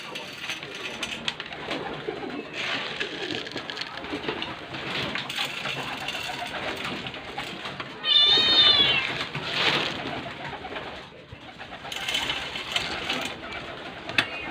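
Racing pigeons coo and flutter while being fed by the spoonful, with a busy layer of bird calls running throughout and a louder burst of activity near the middle; no talking is heard.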